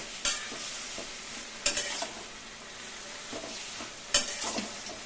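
Taro leaves with a hilsa fish head being stirred in a pan, a soft background sizzle with three bursts of scraping and clattering from the spatula, close and otherwise quiet, with no talk.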